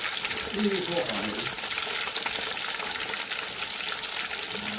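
Garlic and green chili fry in a pan, giving a dense, even sizzle that runs close and unbroken throughout, with a faint voice briefly underneath.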